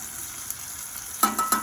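Onions and a butter burger fry in a skillet on a Big Green Egg, giving a soft steady sizzle that turns into a few sharp clinks and scrapes near the end.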